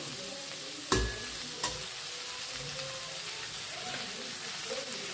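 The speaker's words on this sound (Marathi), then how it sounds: "गवारी बी आपली छान भाजले बघा. मिक्स करूया भाजीला." Cluster beans frying in a pan while being stirred, a steady close sizzle running throughout with a couple of sharp utensil knocks against the pan early on.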